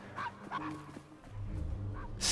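A dog in the game Assassin's Creed Syndicate gives a few short barks and yips close by, spaced through the moment over a low background hum.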